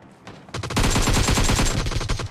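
Rapid automatic gunfire from PUBG Mobile bursts in loud and close after a short quiet lead-in, then rattles on continuously to the end.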